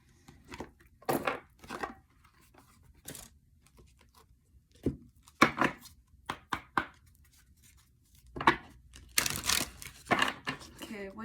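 Guidance cards being shuffled and handled in scattered short bursts of papery riffling and tapping, close and fairly quiet, with gaps of near silence between.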